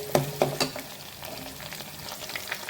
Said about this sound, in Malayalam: എണ്ണയിൽ നല്ലോണം കരിഞ്ഞു പോകാത്ത വിധത്തിൽ നല്ലോണം നമുക്ക് ഫ്രൈ ചെയ്ത് ഒന്ന് വാടി വന്നാൽ മതി